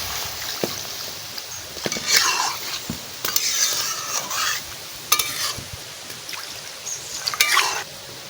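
Water goes into a hot pot of prawn biryani, setting off bursts of hissing sizzle alongside loud, intermittent scraping and clinking of a stirring spoon against the pot, with no voices.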